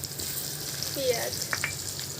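Onion and potato frying together in oil with chillies and garlic, giving a steady close sizzle broken by a couple of brief scraping stirs of a spoon.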